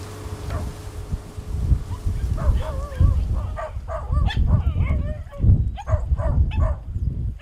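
Several abandoned dogs on an island reached by boat from Binangonan bark in repeated, overlapping yelps and whines, close and loud, with a faint steady hum underneath.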